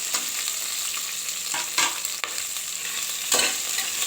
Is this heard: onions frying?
yes